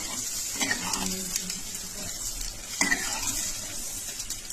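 Ridge gourd curry with peanuts and a little water being stirred in a pan, a gentle sizzle with a couple of louder spoon scrapes, close and moderate in level, no voices.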